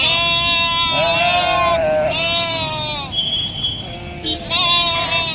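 A flock of freshly sheared sheep in Himachal bleats loudly and close by, with several overlapping cries following one another over a steady background of outdoor noise.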